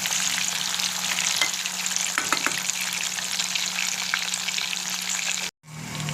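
Chicken 65 fries in oil on a medium flame, a dense, constant crackling sizzle with a few stirring scrapes, heard close, then cut off abruptly near the end.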